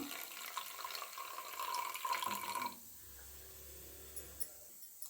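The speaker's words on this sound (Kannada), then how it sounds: "ಇವಾಗ ಇದ್ರ ನೀರೆಲ್ಲ ತಗೋತೀನಿ ನಾನು" Water poured off settled ragi (finger millet) in a kitchen, a steady trickling pour for about three seconds that stops abruptly, followed by quiet with a low hum.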